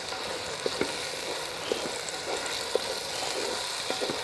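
Green chillies and tomatoes fry in hot oil for a goat intestine biryani, a steady loud sizzle with faint scattered clicks of stirring.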